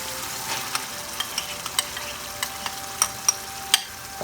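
Tomato puree and masala sautéing in a pan for Bengali aloo dum, a steady close sizzle and fry hiss with scattered sharp pops and light stirring clicks throughout.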